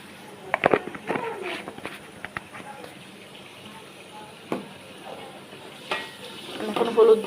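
Beef curry is stirred in a pan after water is added, giving soft scraping and sloshing with a low sizzle, with scattered knocks of the utensil against the pan and quiet intermittent sounds near the end.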